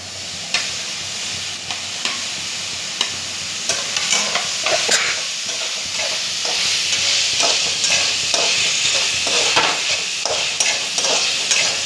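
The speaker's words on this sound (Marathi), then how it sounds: "आता त्याच्यामध्ये आपण पास्ता ॲड करूया." Pasta tipped into a hot frying pan and stirred, with a steady sizzle of frying running throughout and repeated scraping, clinking stirs at a brisk, uneven rhythm, close and fairly loud with no talking.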